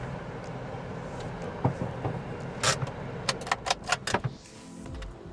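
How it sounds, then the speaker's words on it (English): A car being parked near Raja's tomb in Madikeri, Coorg: a low idling engine rumble, then a quick run of sharp clicks and clunks like doors and handles, ending in a soft low thud. "We park the car here."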